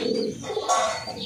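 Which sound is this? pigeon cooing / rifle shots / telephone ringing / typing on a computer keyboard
pigeon cooing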